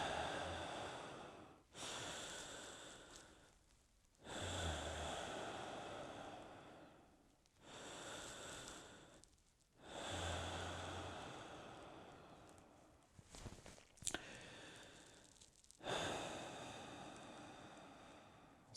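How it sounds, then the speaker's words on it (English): Shallow chest breathing is demonstrated as a series of loud, close, rushing breaths, inhales and exhales alternating every couple of seconds with brief pauses and a sharp sniff near the end. "Can you do an example of how not to do it with chest breathing?"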